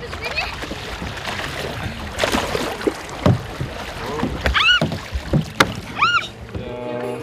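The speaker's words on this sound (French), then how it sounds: "une course chronométrée en canoë-kayak au niveau du pont de Cassagnole" Paddlers in a timed canoe-kayak race on a river near the Cassagnole bridge, with splashing paddle strokes and water noise, bird chirps rising over the scene, and wind buffeting the microphone.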